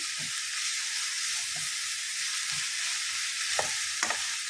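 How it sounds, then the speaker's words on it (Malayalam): Ginger and garlic fry for a tuna fish pickle, a steady loud hiss and sizzle in the pan with a few soft scrapes from stirring near the end, and no talking. "നമ്മളിത് നല്ലതുപോലെ ഫ്രൈ ആക്കണം ഇഞ്ചി വെളുത്തുള്ളി എല്ലാം"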